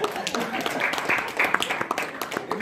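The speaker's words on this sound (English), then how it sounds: "Y'all clap your hands into the Lord on that good stuff." A church congregation claps hands in quick, uneven bursts, many hands layered together close by, mixed with faint voices and shouts under the clapping.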